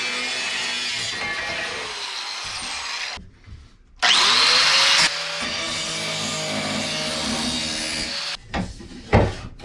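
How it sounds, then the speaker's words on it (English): A cutoff wheel cutting aluminum during a wooden boat restoration, loud grinding and screeching in long bursts that stop and restart, with a rising whine as the wheel spins up and winds down. "a cutoff wheel is definitely not the right tool for cutting aluminum"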